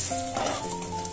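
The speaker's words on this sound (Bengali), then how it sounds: "কালো জিরে আর একটা শুকনো লঙ্কা ফোড়ন দিলাম" Crushed black pepper, nigella seeds and a dry red chilli sizzle in hot oil as a tempering, a brief, close, steady crackling fry with a light stir.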